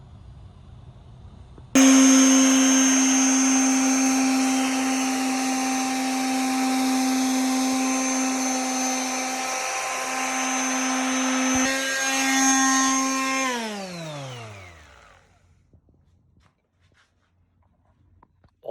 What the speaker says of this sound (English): Just sanding.